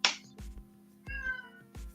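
A cat meows three or four times in short, separate calls, with a brief higher squeal at the start, fairly close and clear against a quiet room hum.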